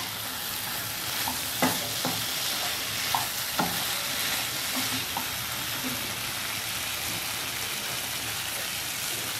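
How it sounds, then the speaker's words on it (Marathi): Boiled cauliflower, peas and carrot are stir-fried in a pan over a high flame, with a steady close sizzle and scattered scraping clicks of a spoon, no talk. "ते पाणी एकदम मोठ्या गॅसवरती व्यवस्थितपणे परतवून घ्यायची भाजी"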